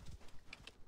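Horse hooves clip-clopping in Assassin's Creed Origins, a few quick, quiet hoofbeats in rapid rhythm over a soft game background.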